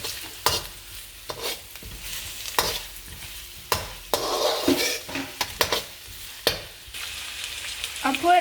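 Onions frying in a pan for veg Manchurian, a steady sizzle and spatter punctuated by repeated scraping stirs of a utensil against the pan, close and fairly loud.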